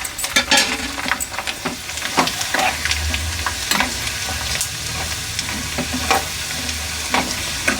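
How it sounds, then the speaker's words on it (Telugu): Grated coconut frying in hot ghee in a pan on the stove gives a close, continuous sizzle, broken by repeated scraping and stirring clatters throughout. "మనకు నెయ్యి బాగా వేడి ఉంది కాబట్టి ఈ వేడికే మనకు వేగిపోతాయి"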